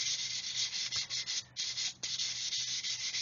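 Very fine abrasive lightly rubbed along a glued seam on a Revell 1/144 Apollo Saturn V plastic model kit, close and quiet, short back-and-forth strokes in a steady rhythm with brief pauses.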